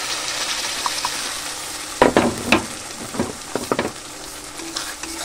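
Spices sizzle and crackle with fried onions in a hot pan while being stirred, with a few scraping strokes of a spoon; no voices.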